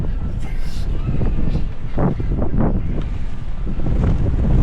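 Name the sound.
strong wind blowing at the seaside in Busan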